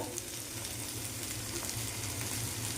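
Snake gourd curry with garam masala being stirred in a hot pan: a steady, close sizzle with soft scraping as it is turned, continuous throughout.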